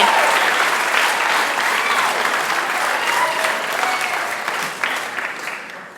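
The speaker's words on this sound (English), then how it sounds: "I want everyone to give a round of applause for my little brother, Dalton, here." An audience at a 2016 auction speech gives a steady round of applause for a little brother named Dalton, sustained clapping that slowly fades by the end.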